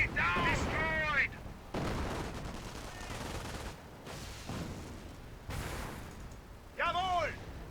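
A tank in the video game Company of Heroes blows up an emplacement, with booming cannon fire and crackling battle noise in several loud bursts; voices talk at the start and end.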